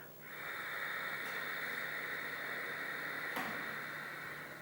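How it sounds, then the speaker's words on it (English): A long, steady ujjayi yoga breath is pushed out through a constricted throat with lips sealed, making an even, ocean-like hiss that fades in and out at the ends. "This is the sound of Ujjayi breath."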